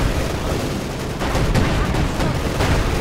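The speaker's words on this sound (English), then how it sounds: "we're just seeing the advancing infantry being shredded here by Flak Panzer and the Panzer" Flak Panzer and Panzer gunfire shredding advancing infantry in the video game Company of Heroes 2, a dense continuous roar of rapid automatic fire and blasts that stays loud throughout.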